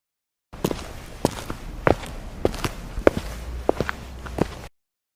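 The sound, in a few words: walking footsteps sound effect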